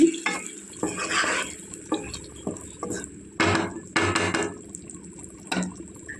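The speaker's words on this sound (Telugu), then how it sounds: "కలుపుకోవాలండి కొద్దిగా బాగా" Egg and potato curry with tomato paste stirred in a pot, irregular scraping and wet sloshing strokes in short bursts, close and moderately loud.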